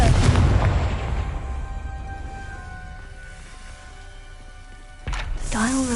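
A Confringo spell blasts in a Harry Potter video game, opening with a loud booming explosion that rolls off into a fading rumble before a brief game sound at the end.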